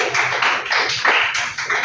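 An audience at a Toastmasters meeting claps for the general evaluator. The applause is steady and dense, with many overlapping hands sounding close, and it keeps going without a break for about two seconds.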